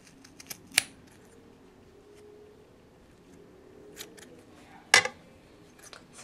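Scissors snip through furry yarn ties while finishing a knitted aviator hat, two distinct close, sharp cuts several seconds apart among faint handling noises.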